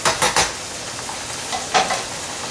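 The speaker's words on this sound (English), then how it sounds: "So let's get that a bit stirred." Spaghetti bolognese sauce stirred in a pan, a utensil scraping and clanking against the metal in a few quick strokes over a steady low sizzle, close and fairly loud, no talking.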